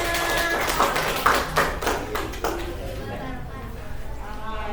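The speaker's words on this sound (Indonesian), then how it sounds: "Kasih tepuk tangan dulu untuk temannya." Classmates in a school classroom give a short burst of hand clapping after a student presentation, a scattered patter of claps that fades quickly into room noise.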